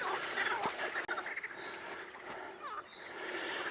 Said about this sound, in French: Écoutez-moi tous ces crapauds. Dans l'eau.